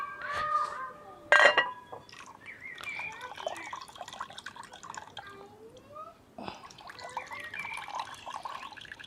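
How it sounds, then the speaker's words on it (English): Cooking water is poured off a pot of ackee, only about 40 to 50 millilitres, in a steady trickle and drip with a few sharper splashes and clinks near the start. The sound stays close and moderate. "I'm going to pour off some of this water off this ackee"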